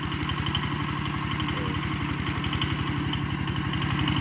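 A walk-behind tractor engine idles steadily while backing up, with a fast even chugging pulse and a faint metallic clatter, close and continuous throughout.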